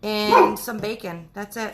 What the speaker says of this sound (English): And my dogs are going to go crazy.